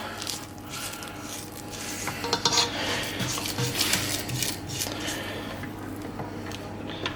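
A spatula scraping cake batter down the sides of a mixing bowl, producing repeated close scrapes and soft squishes over a steady mixer-like hum, continuous with no voices.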